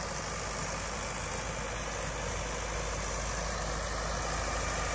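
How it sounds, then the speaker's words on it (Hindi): A tractor engine runs steadily in a wet farm field, a continuous low mechanical drone that holds at an even level throughout, with no talk. "इस देखियो धूल धमाल हो रहा सारा ट्रैक्टर"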